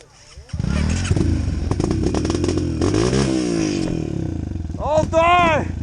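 A motorcycle on a rainy ride pulls off in first gear with a loud, close engine that revs and clatters steadily, and voices shout near the end.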